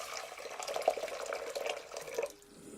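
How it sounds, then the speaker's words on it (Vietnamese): Boiling water poured into a cooking pot, a steady splashing liquid pour with small bubbly surges, close and fairly loud, stopping abruptly near the end. "Cho nước sôi vào nồi."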